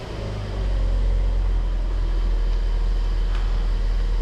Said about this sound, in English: just start the car, let it warm up, let it bleed the system